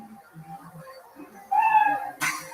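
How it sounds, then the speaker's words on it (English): A cat lets out one loud, drawn-out meow after a stretch of faint background chatter, followed by a sharp burst of noise. "Wow, that cat was loud on that one."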